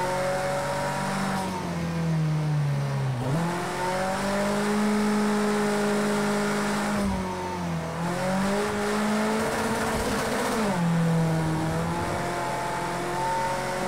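Ford RS200 rally car engine in Project CARS 2 on the Nürburgring Nordschleife, loud and close, revving up through gears with audible pitch climbs, brief dips at shifts around three, eight and eleven seconds, and steady high-rev howl between, no voices.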